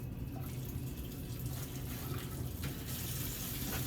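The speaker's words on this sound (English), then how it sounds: "When I turn the water on at the sink, the sink handles are dirty" Sink faucet running at a steady, close rush of water, turned on with a paper towel during a foot care procedure; continuous gushing fills the whole stretch with no talking.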